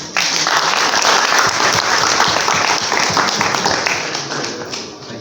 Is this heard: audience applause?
yes